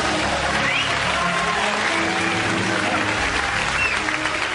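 A studio audience at the end of a comedy show gives loud, sustained applause that stays even and dense from start to finish, with no voices cutting through.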